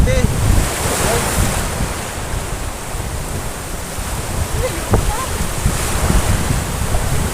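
Ocean surf rolls and crashes steadily with wind buffeting the microphone at Paniman, Cavite; a few faint voices are barely audible underneath.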